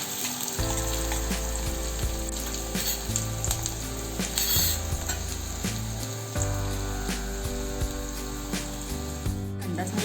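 Onion sautés in a pan for upma, sizzling loudly and continuously up close while a spatula scrapes and clinks against the metal. A steady background hum runs beneath the frying.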